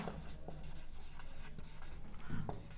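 Pen or marker scratching steadily across paper while a graph is drawn for a university exam question, soft continuous strokes with a few brief louder taps, no talking.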